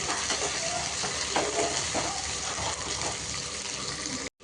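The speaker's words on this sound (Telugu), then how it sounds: "బెండకాయలు అయితే మంచిగా ఫ్రై అయినాయి ఆయిల్లో" Okra pieces frying in oil in a pan, a continuous dense crackling sizzle, fairly loud and close, with faint stirring and no talk, cutting off abruptly at the end.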